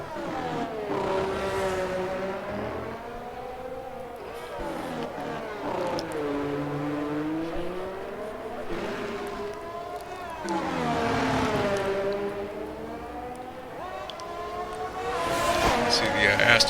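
A race car runs a qualifying hot lap at Singapore, its engine pitch climbing and dropping through repeated gear changes and braking zones, moderately loud under continuous commentary.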